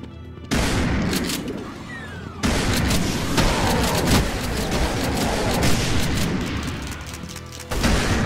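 A rocket launcher fires repeatedly in Brutal Doom, each shot a loud, dense boom with a roaring blast that overlaps the next in a chaotic barrage.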